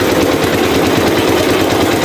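A loud abaca fiber stripping machine engine runs continuously up close, a steady rumbling drone with a rough, vibrating texture and no pauses.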